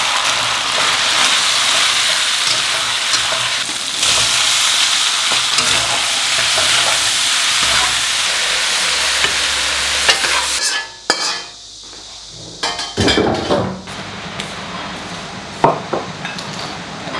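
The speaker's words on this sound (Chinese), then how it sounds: "大火把锅烧热，然后倒油，生抽下锅，葱姜蒜泡椒" Soy sauce, scallion, ginger, garlic and pickled chili stir-fried in hot oil in a wok over high heat, giving a loud, steady sizzle with scraping stirs that breaks off around the middle, then returns in sharp bursts.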